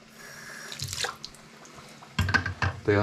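Water poured off a pot of boiled potatoes into a sink, splashing in uneven bursts with a short pause before a louder gush and dripping near the end.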